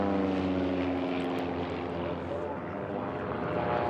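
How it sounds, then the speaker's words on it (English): Racing airplanes at a national championship air race roar past a pylon, a loud, continuous propeller-engine drone lasting several seconds with a commentator talking over it. "Listen to those planes go by that pylon."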